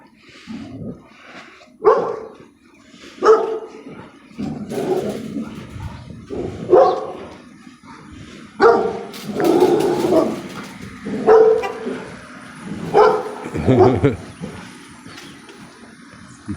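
A dog with foam around its mouth barks in a series of about a dozen loud, close, irregularly spaced barks and yips, with brief pauses between bursts.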